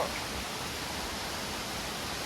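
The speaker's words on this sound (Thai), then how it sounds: "ตรงที่เรามานี้เป็น ชั้นสองกับชั้นสามนะครับน้ำตก" Waterfall in the rainy season near Chiang Mai, second and third tiers, rushing as a steady, dense broadband roar with no pauses.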